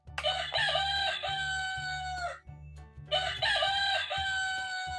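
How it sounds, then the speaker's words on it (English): Rooster crowing from a Melissa and Doug farm animals sound puzzle toy, two loud electronic cock-a-doodle-doo calls in a row with a short gap between, each with a clucking layer underneath. "Let's see what a rooster sounds like."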